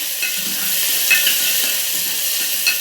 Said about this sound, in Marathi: छान परतून घ्यायचं ते आपल्याला